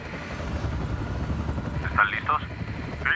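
Coast Guard rescue helicopter hovering over a boat at sea, a steady close rotor drone filling the background while radio voices talk over it.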